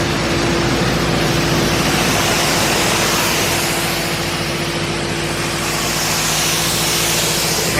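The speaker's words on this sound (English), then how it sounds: "He's blasting the roof." Steady, loud broadband hiss of sandblasting on the roof of a 1967 Camaro, continuous and close, with a low hum beneath and no talking.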